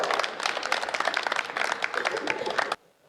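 Brisk, dense applause from the crowd at a Hindi comic poetry gathering, a packed hall clapping steadily and loudly before cutting off abruptly into near silence.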